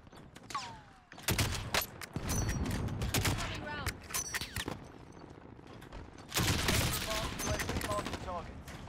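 Dense video-game gunfire from Call of Duty Warzone: bursts of rapid automatic fire and shots, loud and close, with a heavy barrage near the end and voices in the mix.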